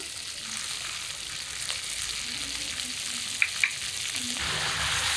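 Masala with chopped tomato and salt sizzling in oil in a pan for a carp fish curry, a steady soft frying hiss with a couple of sharp spoon clicks against the pan.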